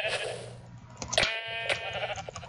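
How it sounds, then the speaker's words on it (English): Blocky bleats from sheep in the Minecraft video game, several short calls overlapping in quick succession over a steady background tone, fairly close and clear. "Gotta get these sheep to our side."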